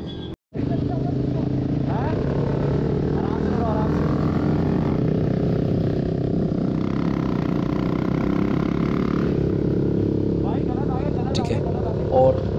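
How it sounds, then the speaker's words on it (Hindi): Loud motorbikes in city traffic near India Gate, Delhi, with engines droning and revving continuously close by, occasional horns, and people talking over the roar throughout. "इतनी ये बाइकों का जो आपको पता है जो साउंड देख रहे हो बहुत ख़तरनाक है"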